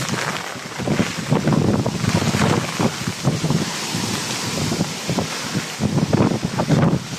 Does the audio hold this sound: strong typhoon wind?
yes